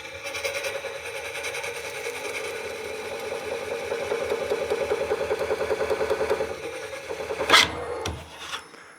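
A Woodcut Bowlsaver Max 4 cutter coring a wooden bowl on a lathe makes a steady, rhythmic rasping scrape close by, ending with a sharp crack and scraping burst as the cut breaks through.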